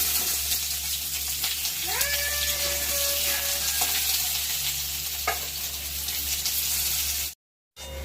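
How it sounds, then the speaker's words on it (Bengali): Potatoes frying in a pan of oil on a home kitchen stove, a steady soft sizzle running throughout with a few brief higher squeaks and clinks over it, no talking. "এবারে আমি আলুগুলোকে ভেজে নেব।"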